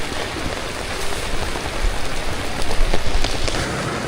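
Heavy rain pours during a downpour in Vietnam, a loud, dense hiss of drops drumming on surfaces that holds steady throughout with no voices.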